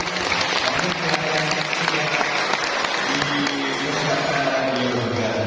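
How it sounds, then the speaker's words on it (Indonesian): An audience at a BKKBN community event in a teachers' hall in Jember, East Java, claps for Pak Andi, a dense, continuous roomful of applause at steady volume with a low murmur of voices beneath. "Boleh kasih tepuk tangan juga untuk Pak Andi."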